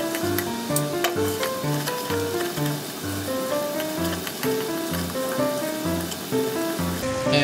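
Mirin and coarse zarame sugar heat in a pot while being stirred, giving a steady close sizzle and bubbling with scraping strokes, alongside a faint tonal background.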